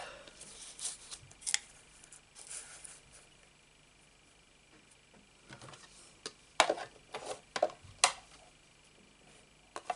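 Scissors snipping leaf shapes out of a scrap of paper in a card-making session, a few soft, quick snips and crisp clicks scattered over quiet room noise.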